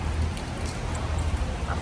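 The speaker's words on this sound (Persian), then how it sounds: "بارونه" Rain falls steadily outdoors as an even, hissing wash of drops. It is moderately loud and constant throughout, with no voices over it.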